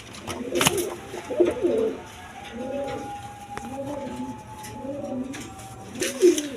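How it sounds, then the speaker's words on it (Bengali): Pigeons cooing in a loft of breeding pairs, repeated soft rolling coos close by in a steady rhythm, with a sharp knock and faint background noise. "এইখানে আরেক পেয়ার কালপিট কবুতর আছে দেখেন"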